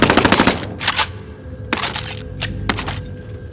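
Gunfire from Call of Duty Warzone during a resurgence quads match: loud rapid automatic bursts, a fast rattling volley followed by several shorter sharp bursts with brief gaps, close and dominant, no talk.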